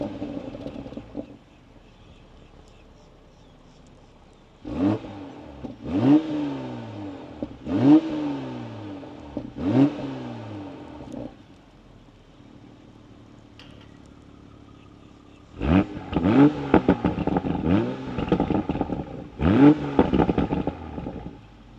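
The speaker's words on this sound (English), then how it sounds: "jump inside the car and give you guys a startup and some revs" A 2020 Toyota GR Supra engine fires up, then gives a series of sharp blips: several separate revs, a quiet idle pause, then a tighter cluster of loud revs close to the car.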